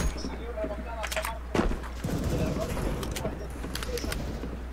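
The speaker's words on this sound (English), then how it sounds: "Shot him with the shotty." Shotgun blasts in a video game sound as several sharp bursts over a steady low hum, with one louder blast in the middle, and a voice talks over them.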